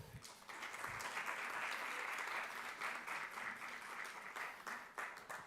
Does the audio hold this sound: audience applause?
yes